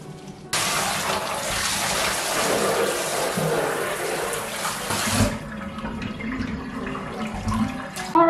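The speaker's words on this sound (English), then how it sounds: "the water is coming out more or less clear now" Water gushes steadily from a tap for about five seconds while naturally dyed cotton is rinsed, then cuts off, leaving faint drips and a low background hum.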